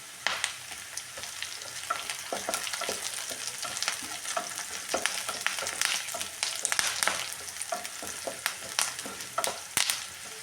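Curry leaves spitting and crackling in hot oil, a dense burst of sharp pops and sizzle with a spoon stirring through the pan, loud and close throughout.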